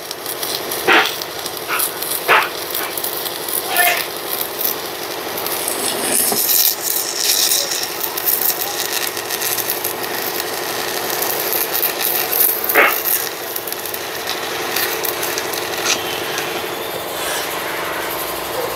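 Arc welding with a 7018 electrode all around a spring bracket eye being restored, a steady close crackling hiss with occasional sharper pops, continuous without talk.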